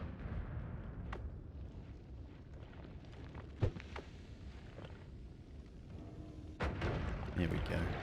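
Bombs go off in the video game Noita, one sharp blast in the middle and a louder burst of explosions near the end, over a steady rumbling game background.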